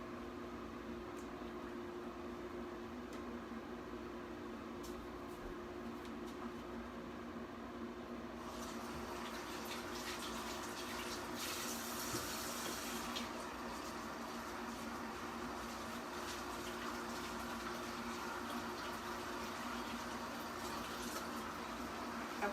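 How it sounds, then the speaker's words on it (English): Half a cup of water poured into a prep bowl while making Tuscan Summer veggie burgers, a soft splashing fill rising over steady kitchen hum midway through, with no voices. "we're also going to add a 1/2 cup of water"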